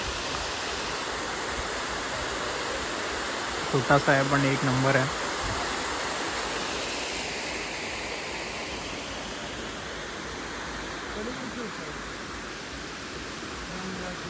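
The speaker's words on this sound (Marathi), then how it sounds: "धबधब्यावर आलेलो आहे मित्रांनो." A steady, full rush of water from a small waterfall by a dam near Khed in Konkan runs unbroken from start to finish, with someone speaking briefly over it near the middle.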